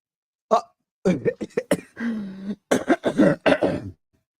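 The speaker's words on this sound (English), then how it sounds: "I gotta clear my throat." Someone clears their throat in a series of short, rough rasps and grunts, close to the microphone, with brief pauses between them.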